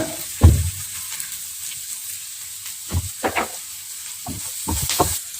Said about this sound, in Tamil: இப்போ வந்து எல்லாமே நல்லா வதக்கியாச்சுங்க